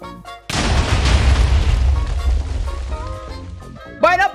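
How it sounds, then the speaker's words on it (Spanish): A TNT explosion in the Minecraft video game erupts in one loud, deep boom that rumbles and decays over a few seconds, with brief voice sounds before and after it. "TNT encima."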